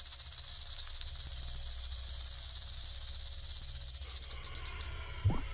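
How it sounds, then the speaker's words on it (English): A rattlesnake shakes its rattle in a rapid, continuous buzzing hiss that runs steadily for several seconds, then breaks into a few sharper bursts near the end. "The older the rattlesnake gets, the longer its rattle."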